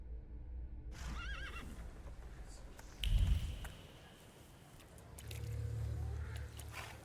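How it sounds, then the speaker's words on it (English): Horse in The Thaumaturge video game neighs loudly and clearly, then a heavy thump follows and a low rumble of movement as it sets off; no speech over it. "I meant to take the horse out for a ride, so get on."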